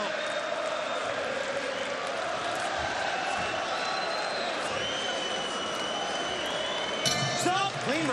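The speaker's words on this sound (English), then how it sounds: "Crowd are responding as well." Crowd noise from a Bellator MMA fight audience reacting to an explosive opening round, a steady loud roar of cheering that holds throughout with a brief sharper burst near the end, with voices talking over it.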